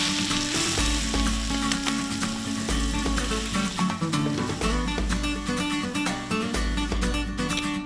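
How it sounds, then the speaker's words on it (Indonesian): Ground spice paste and small rono fish stir-fry in a hot pan for sambal roa, giving a loud, constant sizzle with scraping stirs and occasional low thumps of the utensil. "adonan bumbu yang sudah halus pun ditumis bersama dengan ikan rono hingga menyatu dan meresap."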